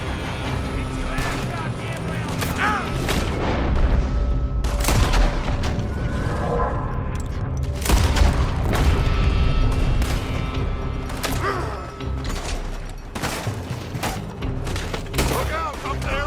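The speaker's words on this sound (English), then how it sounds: "They're shooting from that building!" Gunfire erupts from a building in Red Dead Redemption 2, with dense volleys of shots and heavy booms rolling continuously under urgent shouted talk, loud and close throughout.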